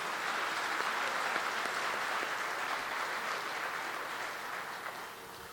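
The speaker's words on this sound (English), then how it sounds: "Please give them another round of applause." An audience at a classical Indian dance debut recital claps for the accompanying musicians, soft, distant, even applause that slowly fades toward the end.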